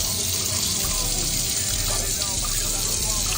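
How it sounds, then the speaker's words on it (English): Rice is rinsed in a kitchen as tap water runs and sloshes steadily and close, in a continuous wash of splashing. "So I'm gonna go ahead and rinse this rice off, get all that starchy shit off of it"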